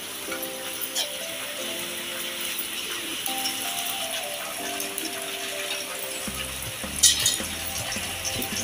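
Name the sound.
ginger garlic paste sizzling as it is sautéed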